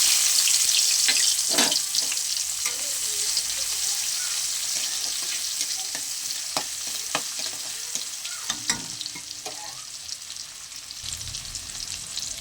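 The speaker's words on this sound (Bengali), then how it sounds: "এবার আমি সব একসঙ্গে ভালো করে ভেজে নেব" Dried red chilies and chopped onion fry in oil left from frying fish, giving a loud, steady sizzle throughout with stirring and scraping close by.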